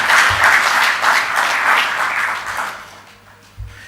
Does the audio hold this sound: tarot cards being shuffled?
no